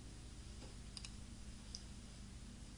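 Faint mouse clicks on a computer running port logistics software, a few soft isolated ticks over a low steady room hum with no talking.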